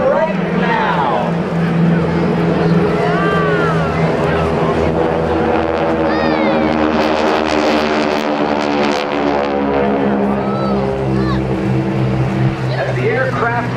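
Six GEICO Skytypers SNJ trainer aircraft fly in Delta formation at the 2010 Jones Beach airshow. Their engines make a steady, layered drone that rises and falls in pitch as the formation passes, with a voice speaking over it throughout.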